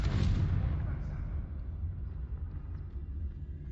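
A Confringo blasting spell in Hogwarts Legacy erupts as a loud, deep booming explosion that rumbles and slowly fades over several seconds.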